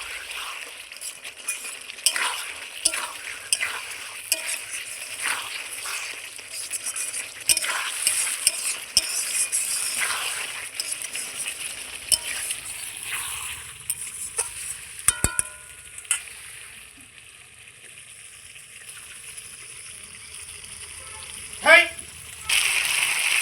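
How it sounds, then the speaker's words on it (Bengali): Fried potatoes being stirred and sautéed with spices, turmeric and salt in a pan over a wood-fired clay stove, with steady sizzling, scraping spoon strokes, and occasional clinks close by. "আলুটা যে ভেজে রেখেছি সেই আলুটা মশলা কষানোর মধ্যে দিয়ে ভালো করে আমি কষিয়ে নেব।"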